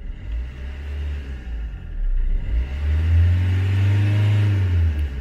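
An Audi engine idles, then revs up gently and holds at raised revs during an OBD2 diagnostic test, a loud, close rumbling drone with no talk.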